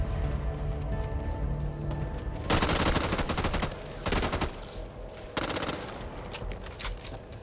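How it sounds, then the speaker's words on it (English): Heavy machine gun in the Back 4 Blood video game fires in sustained loud bursts, broken by short pauses, over a constant backdrop of game ambience. "Heavy machine gun."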